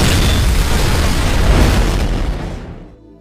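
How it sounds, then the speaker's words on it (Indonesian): A single huge explosion from an action film bursts loud and broadband, rumbling on heavily for a couple of seconds before trailing off into silence. "ternyata ledakan itu sengaja Jonah buat untuk mengalihkan perhatian para polisi"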